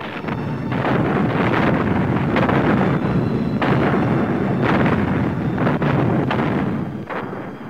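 Wartime explosions and artillery fire boom in a loud, rumbling barrage, with repeated heavy blasts and bursts rolling one into the next over a constant roar.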